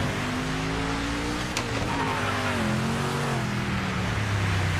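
In a racing video game, a race car's engine drones at a steady pitch that rises and falls with the throttle, while tire squeal wavers over it. The sound is loud and continuous, with no talking.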